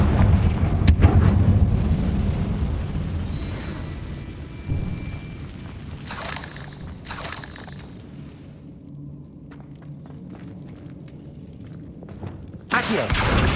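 Blasting spell effects fire off in Hogwarts Legacy, a heavy rumbling boom at the start with crackling debris, then quieter mechanical shuffles and a couple of sharp bursts before another explosive hit near the end.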